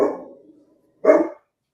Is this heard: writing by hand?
no